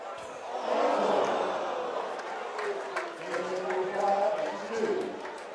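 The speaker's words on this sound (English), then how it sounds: "Crowd start cheering." Darts crowd at a world championship semi-final rises into cheering, a broad swell of many voices building quickly and holding through, with some chatter over the top.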